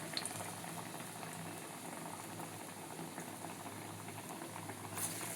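Green gram vada deep-frying in hot oil, a steady close bubbling and crackling boil that runs unbroken throughout with no voices.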